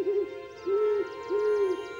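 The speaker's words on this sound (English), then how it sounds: "If we're lucky, we hear the trademark hoots of the great horned owl." Three low, hollow hoots from a great horned owl, evenly spaced and each lasting about a third of a second, sounding fairly close over a steady tonal background.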